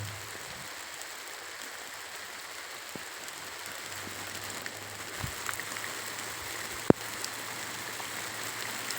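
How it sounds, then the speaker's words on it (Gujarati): Rain falling over an open farm field gives a steady, diffuse hiss of drops with an occasional louder patter or tap close by. No one speaks. "વરસાદ ચાલુ થઈ ગયો"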